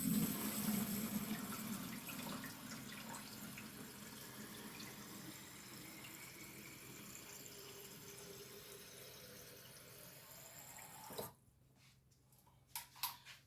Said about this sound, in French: Et je vais chercher de l'eau. Je vais en mettre dans la bouteille là.